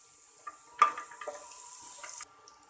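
Garlic and dried coriander paste drops into a pan of browned onions with a sudden close sizzle that settles into a steady frying hiss.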